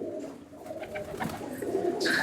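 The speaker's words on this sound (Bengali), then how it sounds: "এটা হারুকুদু পায়রা।" A Harukudu line pigeon, an old-line male in a Kolkata Madrasi pigeon loft, gives a soft, low coo that stays fairly faint amid quiet loft ambience.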